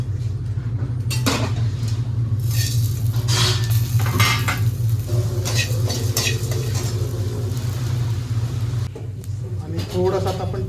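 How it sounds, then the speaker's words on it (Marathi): Whole coriander seeds, black pepper and fennel dry-roast in a pan for a Konkani-style crab curry. Metal stirring scrapes and clinks run steadily close by while someone talks over them. "सगळा खडा मसाला सुद्धा आता आपल्याला भाजून घ्यायचा आहे"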